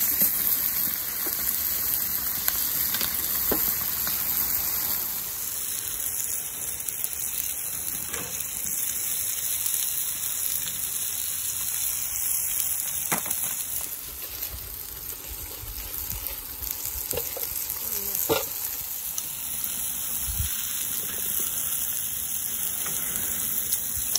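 Steady, dense crackling hiss of meat sizzling on a backyard charcoal grill in early winter, continuous and fairly loud throughout with occasional sharper pops.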